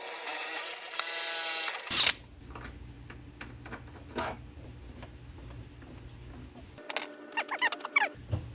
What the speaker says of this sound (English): let's drill her